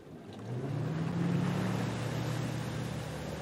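A ski boat's engine throttling up for a water ski pass at a pro tricks competition, its low roar swelling quickly and holding strong and steady, with water rushing around the hull.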